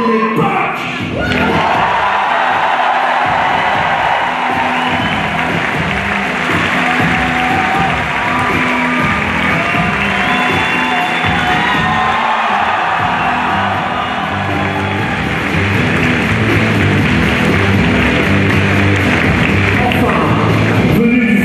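Loud audience applause and cheering fill a live fan show in Paris as a performer is introduced, a dense steady crowd roar with scattered whoops and thumps running the whole time.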